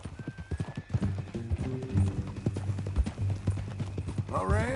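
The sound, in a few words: horse hooves clip-clopping in Red Dead Redemption 2, video game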